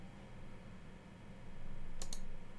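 Mouse clicks at a Windows 10 computer, two quick sharp clicks close together near the end, faint and close over quiet room hiss.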